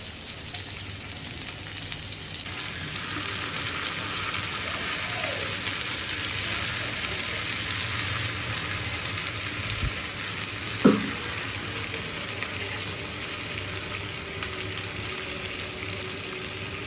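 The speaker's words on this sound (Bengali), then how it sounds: "তো মাছটা এখন তো দিয়ে দেওয়া হয়েছে, এটা 10 মিনিট করে এক পিস করে ভেজে নেবেন।" Tilapia fish pieces frying in mustard oil in a pan, a steady broadband sizzle running throughout at close range, with a brief sharp clink near the middle; no voices.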